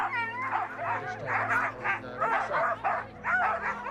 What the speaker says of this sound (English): Team after team arrives to the start area.